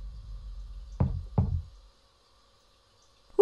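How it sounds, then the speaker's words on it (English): Two dull knocks on a wall land about half a second apart, close and fairly loud against near silence, followed by a quiet pause. "Who the fuck's knocking on the wall?"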